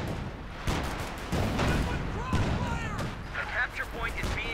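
Artillery and gunfire in a Company of Heroes 2 match boom in repeated bursts, with sharp blasts and whistling shells layered over a busy battle din.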